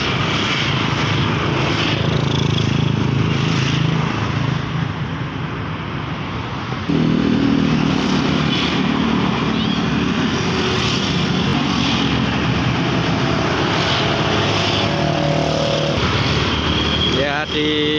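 A Volvo-engined double-decker bus from the Salia Indah fleet pulls away with a loud, rumbling engine roar that deepens and strengthens partway through, with voices nearby under the noise.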